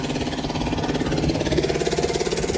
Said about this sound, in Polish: Tam jest ładna wciągarka spalinowa z silnikiem diesla.